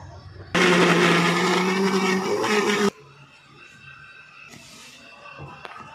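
A mixer grinder making chutney roars loudly for about two seconds, then cuts off abruptly, leaving quiet kitchen background with a few faint clinks.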